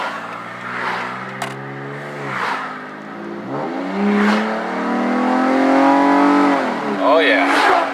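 A 2014 Dodge Charger V6 fitted with a Spectre cold air intake revs repeatedly while driving, the engine note rising and falling in several pulls, loud and close, with speech-like sounds mixed in.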